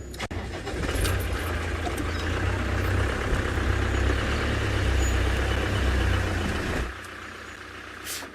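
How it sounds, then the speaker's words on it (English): A safari vehicle on a Maasai Mara game drive idles and rumbles as it is repositioned, a steady low engine drone that is loud and close for about seven seconds before easing off near the end, with no talking. "Let me reposition the car."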